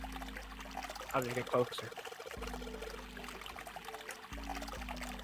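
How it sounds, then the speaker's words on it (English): Water pours from a faucet in the Zero Escape 999 video game, a steady filling sound running under game music and a spoken line. "Hey, the water's filling up."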